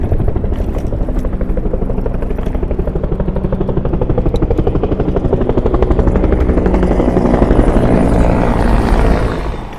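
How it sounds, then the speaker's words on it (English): Loud, continuous rhythmic thumping of three Huey helicopter rotors passing overhead in Washington, D.C., a heavy beating drone that swells and grows nearer over several seconds. "You can hear the thump of the Hueys."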